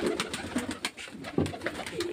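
Murshidabad desi Giribaz pigeons coo repeatedly at close range, deep rolling calls rising and falling in an uneven rhythm, several birds overlapping without human voices.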